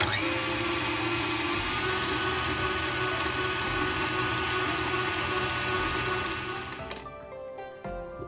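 Electric mixer whisking cream into whipped cream for a Black Forest cake, a steady loud motor whine with constant whirring that holds evenly, then cuts off abruptly near the end.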